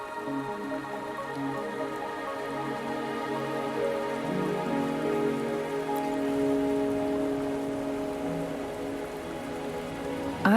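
Steady rain falls in a video game scene, a continuous even patter on surfaces with soft drips, moderately loud and alone, no voices.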